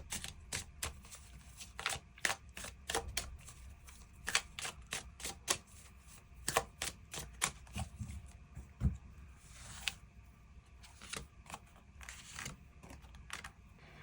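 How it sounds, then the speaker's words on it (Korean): Tarot cards are drawn and shuffled by hand: a quiet, close run of crisp, irregular card snaps and slides, rapid flicks clustering into bursts with short pauses between, with no talking. "추가 카드로 이번 6월을 더 행복하고 긍정적으로 보내기 위한 조언의 카드 무엇이 있을지 추가 카드 뽑아보도록 하겠습니다."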